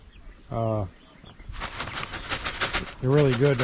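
Puerto Rican chickens cluck and call up close while being fed mealworms in a coop run, with a short harmonic call, then rustling and scratching, then another burst of clucking.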